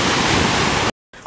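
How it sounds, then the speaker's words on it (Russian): Sea waves on a beach in Spain make a loud, steady broadband wash that fills the clip, then cut off abruptly before a quieter stretch of surf. "И волны."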